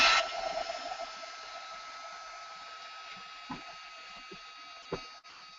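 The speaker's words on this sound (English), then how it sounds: "Where's my dryer? There it is. So I'm going to real quickly give this a quick dry." A craft dryer drying an art journal page whirs steadily with a continuous hum and high whine, fairly faint, with a few small knocks and clicks near the end.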